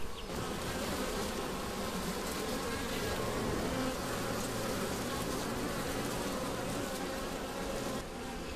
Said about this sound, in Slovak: Kde sú tie včelky? Semka sú také malinké